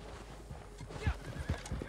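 A horse in Red Dead Redemption 2 whinnies and neighs while its hooves clip-clop in an uneven rhythm, close and clear over soft game ambience.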